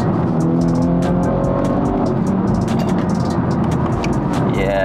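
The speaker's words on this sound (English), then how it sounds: "So this is what a 330e at 400 brake with 3 people in can do" A Stage 2 BMW F30 330e plug-in hybrid tuned to 400 bhp, carrying three people in Sports Plus mode, accelerates hard with a loud, continuous engine and road roar heard from inside the cabin, plus brief sharp tyre and wind noises.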